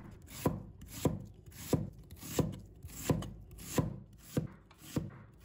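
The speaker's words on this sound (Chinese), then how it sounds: "再准备半个洋葱，先把头尾切掉不要，把它切成细丝。" A knife slices half an onion into thin strips on a cutting board, eight crisp, evenly spaced chops landing at a steady rhythm, close and clear with nothing else heard.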